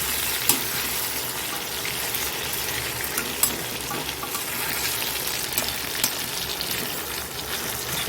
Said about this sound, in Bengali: আলুটা একটু ভেজিয়ে নিচ্ছি